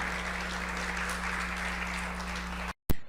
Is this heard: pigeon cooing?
no